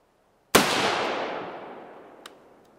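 A single 5.56 rifle shot with 55 grain full metal jacket ammunition fired into a stack of carpet tiles: one sharp, loud crack followed by a long decaying outdoor echo, with a faint click near the end.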